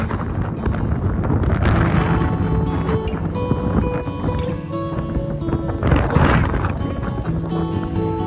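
Strong wind blows snow around during a snowstorm in Canada, a loud continuous gusty roar buffeting the microphone close up, rising and easing in surges with no voices.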